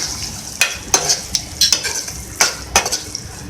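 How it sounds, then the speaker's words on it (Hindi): A spoon scrapes and clinks against a pan while chicken keema fries with black pepper being mixed in, giving irregular sharp metallic taps over a low, constant sizzle. "अब मैं इसमें ऐड कर रही हूँ ब्लैक पेपर, इसको मिक्स करें।"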